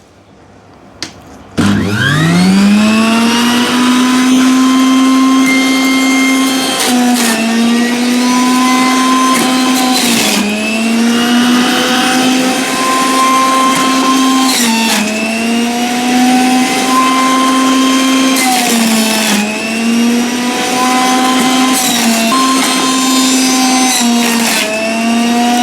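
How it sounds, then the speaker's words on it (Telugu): A Sujata mixer grinder blends beetroot juice, its motor starting with a sharp whirring rise and then running loud and steady close by, with slight changes in pitch as the load shifts. "బీట్రూట్ జ్యూస్ కూడా చేసి చూపిస్తాను"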